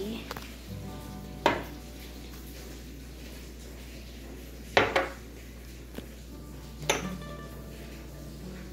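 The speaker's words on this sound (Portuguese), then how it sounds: "E vou ir mexendo bem devagarzinho" Carrot cake batter of carrot, milk, eggs, oil, sugar and oat flour being stirred slowly in a bowl: soft scraping and stirring with a few sharper clinks of utensil against the bowl, fairly quiet and close.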